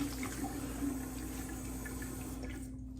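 A bathroom tap runs in a steady, close hiss and splatter as water rinses off after a wet shave, with no voices.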